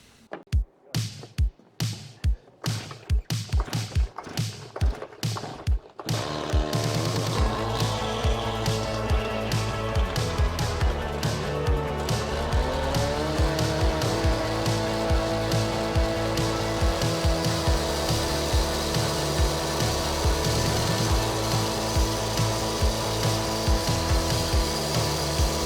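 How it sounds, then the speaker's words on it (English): A concrete gravel board is cut for a fence around a tree, beginning with a run of sharp knocks and then a loud, continuous power-tool cutting whine that persists to the end. "mark that angle on the concrete gravel board and then cut it off"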